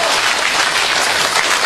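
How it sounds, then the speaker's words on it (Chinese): Dense audience applause at a crosstalk comedy show, a steady loud burst of many hands clapping close by. "永远支持二饭，掌声"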